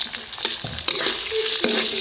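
Crispy pork sizzles and fries in a pan while being stirred, with steady hissing and scraping stir strokes throughout, close and fairly loud, no talk.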